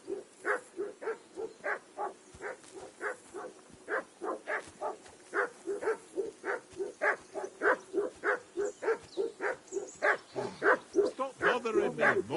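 A dog barks in a steady, rhythmic run of regular woofs for the whole stretch, close and insistent, outdoors beside a riverbank campsite.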